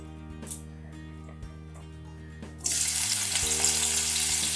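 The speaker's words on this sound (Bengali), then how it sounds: "অল্প তেল দিয়ে আগে আমি উচ্ছেগুলোকে একটু ভেজে নিচ্ছি" Sliced bitter gourd drops into a little hot oil and a loud, bright sizzle bursts in partway through, then holds steady over quiet background music.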